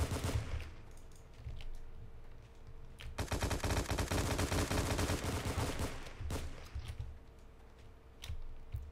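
Rapid automatic gunfire from the shooter video game War Inc, starting with scattered shots and mechanical clatter, then a loud continuous burst of several seconds, followed by intermittent bursts and lighter firing.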